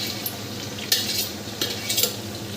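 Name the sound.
onion and garlic frying in a pan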